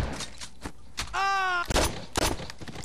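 Gunfire in the crime game Saints Row 2, a few loud close sharp shots in quick succession around a brief tonal whine, with clattering impacts between.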